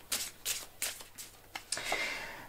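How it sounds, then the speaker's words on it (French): A deck of sigil oracle cards is shuffled in a run of quick, rhythmic riffling bursts, then a card is slid out and drawn, heard up close with no talking. "Je vais donc utiliser mon oracle des sigils et on va se tirer comme d'habitude deux petites cartes."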